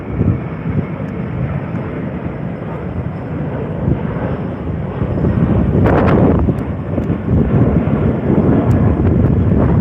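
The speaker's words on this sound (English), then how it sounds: "this other 737-700 is departing to Melbourne" A Boeing 737-700 airliner departing for Melbourne, heard as a broad, rumbling jet roar that grows louder midway and holds steady, muddied by gusts of wind buffeting the microphone.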